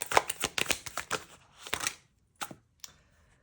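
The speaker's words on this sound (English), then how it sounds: "when I originally shuffled that card" Tarot cards are riffled and shuffled by hand in a quick flurry of papery flutters, then a few separate softer shuffles trail off into quiet.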